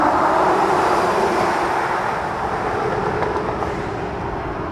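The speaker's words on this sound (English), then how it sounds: "it sounds crazy with those tires and all that weight" Tesla Cybertruck dual-motor pickup heard from outside as it accelerates, a loud broadband rush of tire and road noise that eases slightly as it passes, with no talking.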